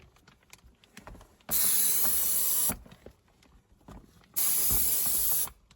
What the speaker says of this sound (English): I'm just going to hot steam all the surfaces.